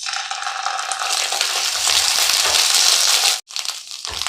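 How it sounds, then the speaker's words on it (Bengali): Ginger paste frying in a pan for Gobindobhog rice pulao is stirred, making a loud, dense sizzle with scraping that holds steady, cuts out abruptly for a moment, then resumes more faintly. "কাঁচা গন্ধটা চলে যাওয়া পর্যন্ত আমি আদাটাকে একটু কষিয়ে নিয়েছি।"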